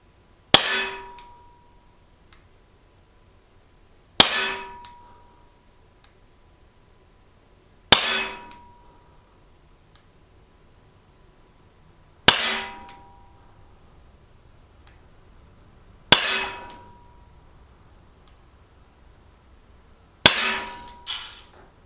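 An Umarex SA10 CO2 blowback pistol fires pellets at a target, giving six sharp, metallic cracks spaced about four seconds apart, each with a short ringing tail, close by and with no talking.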